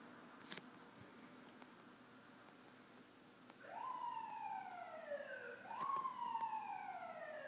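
A distant police siren wails outdoors in two long rising-and-falling sweeps over a faint steady background hum, starting halfway through and growing slightly louder.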